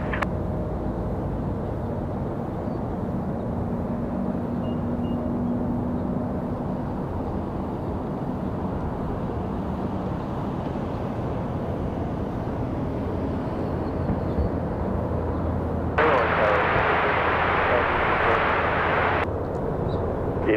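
A plane taking off from runway 23 left at Raleigh-Durham International Airport gives a loud, steady engine roar that holds throughout, with a brief brighter burst of noise near the end.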